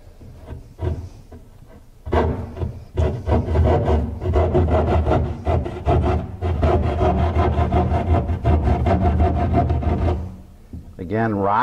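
A sharp-pointed hand tool rocked back and forth through drywall, a loud, close, continuous rough rasping and grinding that runs for several seconds before stopping, with a voice briefly at the end.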